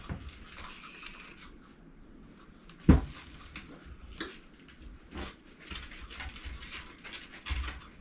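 A Pomeranian being groomed pants and whimpers close by, with a sharp knock from grooming gear and scattered handling noises around it.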